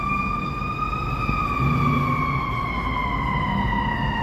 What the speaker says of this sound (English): Here comes the ambulance here.